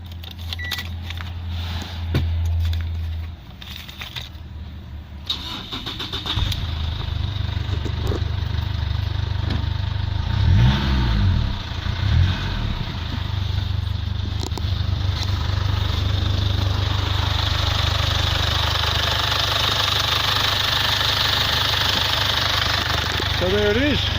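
A Mazda BT50 with a 3.0 WE engine is started after some cabin rustling and key sounds, then settles into a steady, loud diesel idle for the rest of the clip.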